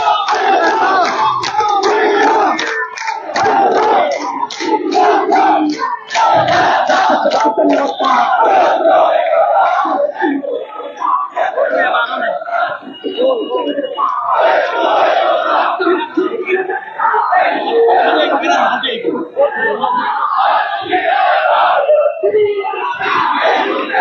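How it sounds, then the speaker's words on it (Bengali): A street rally in Sylhet roars with a large crowd chanting political slogans in loud, rhythmic rising waves of massed voices, near and sustained throughout with brief dips between phrases. "এই মুহূর্তে বাংলা সার স্লোগানে প্রকম্পিত হচ্ছে সিলেটের রাজপথ"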